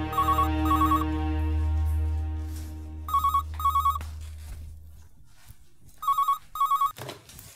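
A telephone bell rings in loud repeated double bursts, three pairs spread across the clip, over a low sustained dramatic music tone that fades out midway.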